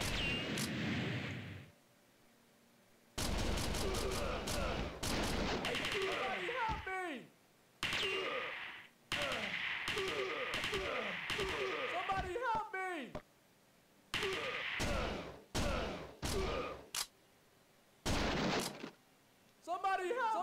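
Arcade-style gunfire from the light-gun shooter Virtual Cop 2, with repeated sharp bursts and rapid shot volleys separated by brief gaps, loud and close, mixed with game effects and occasional speech.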